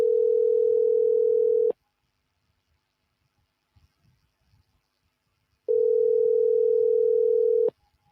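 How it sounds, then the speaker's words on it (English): Two long, steady telephone ringback tones sound while an outgoing call is placed, each lasting nearly two seconds, separated by a quiet pause of about four seconds. "we're calling Mr. Speed"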